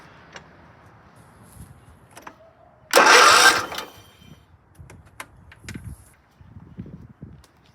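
Engine of a 2004 John Deere L110 riding mower cranks over in one loud burst of under a second, with scattered quieter knocks and footstep-like rustles before and after.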